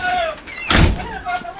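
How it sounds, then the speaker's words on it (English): A door opening indoors, a single brief, fairly loud thud and rush in the middle, with a voice talking before and after it. "She runs when she hears that door open."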